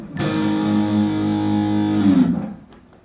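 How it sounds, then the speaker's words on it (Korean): Electric guitar played through an amplifier's built-in drive channel, a single sustained distorted chord ringing out for about two seconds before a brief change and fading away, with no talking. "그래서 여기 보시면 드라이브 버튼이 있는데 이걸 누르시면"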